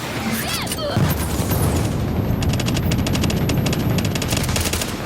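Sustained automatic gunfire from the video game The Division, a dense loud barrage of rapid shots with heavier booms, mixed under battle chatter and voices.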